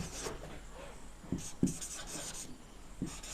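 Pen scratching across paper while a brick and paint total is jotted down by hand, a quiet rubbing scrawl with a few sharper taps of strokes, no talking.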